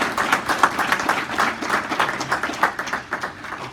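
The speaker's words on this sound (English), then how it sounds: "a round of applause" Audience at a dental professionals' meeting breaks into a steady round of applause, dense clapping from many hands continuing throughout with no talk over it.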